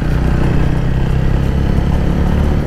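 A TVS Ronin 225 BS6 motorcycle with 110 front and 130 rear block-pattern tyres and a five-speed gearbox is riding along, its steady engine drone and rumble loud and continuous without interruption.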